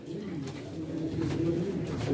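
Pigeons coo steadily in a low, rolling chorus at a Turkish pigeon auction, continuous and fairly close, with faint voices in the background.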